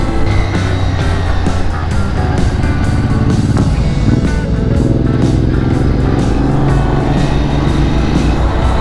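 A Ducati 600SS motorcycle engine drones steadily at about 4,000 RPM while riding in a high gear near 80 km/h, loud and constant with wind rush over it.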